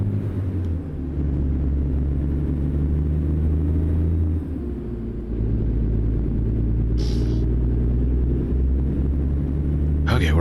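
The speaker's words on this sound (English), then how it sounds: "Listen to that engine, chug." A heavy truck engine in American Truck Simulator chugs with a deep, continuous low rumble that shifts pitch as it labours to speed up, loud and steady under someone talking.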